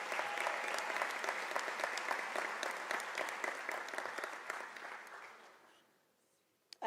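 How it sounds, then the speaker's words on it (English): Sustained applause from the audience at a University of South Africa autumn graduation ceremony, a dense even patter of many hands in a large hall that gradually fades to near silence, followed by a sudden loud thump at the end. "Can I request that you give them a round of applause?"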